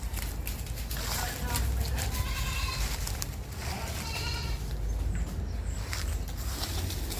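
Boer goats bleat on a farm, their calls rising now and then over steady outdoor noise and rustling, with people talking nearby.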